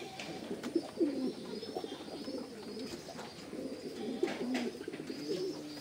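Faint, soft cooing from a pigeon in repeated low throaty phrases, close by and alone.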